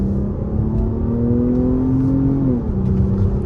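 Audi A6 engine heard from the cabin while driving, a steady loud drone whose pitch rises slowly and then dips as the car shifts, with road rumble underneath and no talk.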